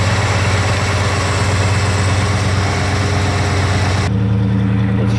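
A cold 1971 Camaro SS with a 402 engine idles close by with a deep, steady rumble and a lumpy low pulse. Near the end the tone shifts abruptly and drops in level, and no voices are heard.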